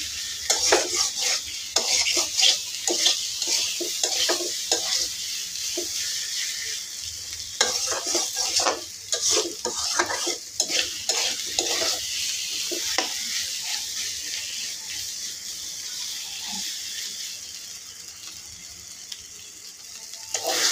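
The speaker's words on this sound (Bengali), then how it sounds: "তো আলুটি দিয়ে ওই মশলাটা ভালো দিয়ে কষাই নিতেছি।" Potatoes frying with spices in a pan, a close steady sizzle broken by frequent rhythmic scraping and clattering of a spatula against metal, quieter toward the end, without speech.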